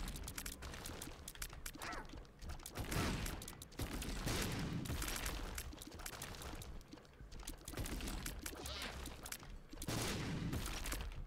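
Dense bursts of gunfire-like blasts and booms crackle continuously in The Binding of Isaac, layered over a rumbling game soundtrack, heard at low volume.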